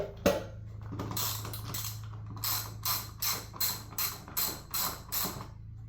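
A ratchet with a 12 mm socket turns fender bolts on a 1984 Honda Nighthawk 650 motorcycle, giving a steady run of about ten close, rhythmic clicking strokes over a low hum.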